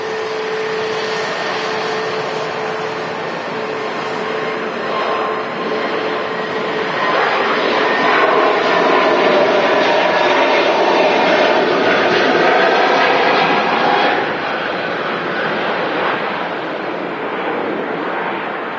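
Turkish airliner departing Manchester Airport in the evening gives a loud, sustained jet roar that swells into a whining, rumbling peak midway before easing off, heard alone without talk.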